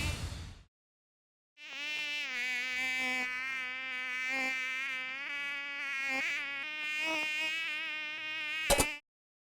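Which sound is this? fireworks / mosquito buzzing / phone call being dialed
mosquito buzzing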